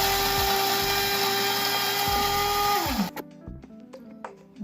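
Electric coffee grinder grinding beans in a home kitchen in the morning, a loud sustained whirring roar for about three seconds that winds down and cuts off, followed by faint clinks and handling noises.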